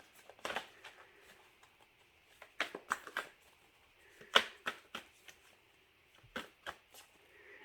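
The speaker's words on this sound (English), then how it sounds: "this is the last time that I'm going to shuffle, and then I'm going to put them away" A deck of tarot cards is shuffled by hand in several short bursts of crisp riffling and slapping, close and clear with pauses between.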